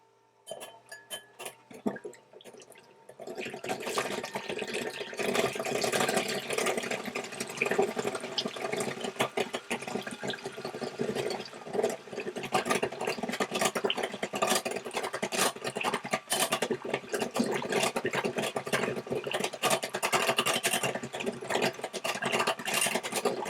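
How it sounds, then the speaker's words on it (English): Electric hand mixer breaking down creamed coconut for a loaf cake batter. The motor whirs loudly and steadily after a few quiet seconds, with beaters rattling and clinking against the bowl, close by and with no talk. "I'm going to use my hand mixer to do that"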